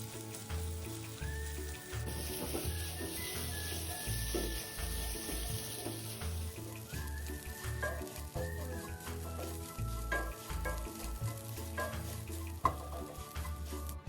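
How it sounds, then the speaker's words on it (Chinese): Whole spices stir-fried in hot oil over medium-low heat give a continuous crackling sizzle broken by scraping and stirring strokes, with a melodic backing track running underneath throughout. "油热后再将所有香料倒入炒香，炉开中低火，慢慢将香料炒至溢出香气"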